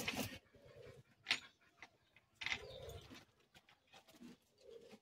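Female pigeon cooing up close in short soft throaty bursts separated by pauses, with faint background bird calls.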